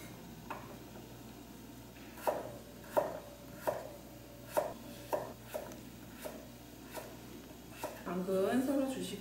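Knife chopping through carrot and radish on a cutting board, a series of crisp evenly spaced thuds close by, ending in a denser, scraping flurry of cuts.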